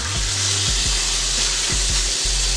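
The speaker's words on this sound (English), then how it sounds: "I'm going to put them all in here and sear them off" Loud, steady sizzling of chicken searing in a hot frying pan, with faint low thumps and scrapes underneath and no talking.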